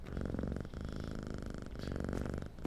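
A cat purrs up close in a steady, rumbling rhythm of breathy cycles, with brief pauses between breaths and no talking.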